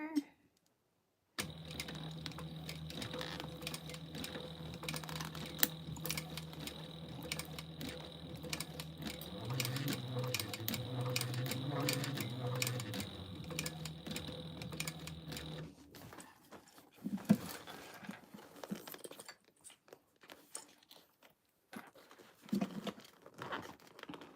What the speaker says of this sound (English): we're going to stitch across there